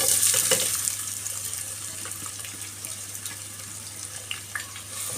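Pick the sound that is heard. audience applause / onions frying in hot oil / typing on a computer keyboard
onions frying in hot oil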